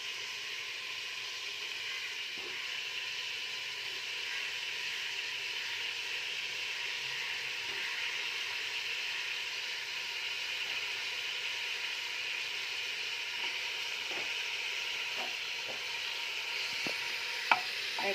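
Chicken pieces frying in a pan for chicken soup give off a steady, moderately loud sizzle and hiss, with occasional soft clicks of stirring, and no talking.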